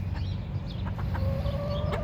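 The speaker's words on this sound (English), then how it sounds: "he's damn near like an award-winning chicken there" A rooster newly added to a backyard chicken flock clucks and calls close by, with short repeated vocal bursts and a rising cry near the end over steady outdoor background noise.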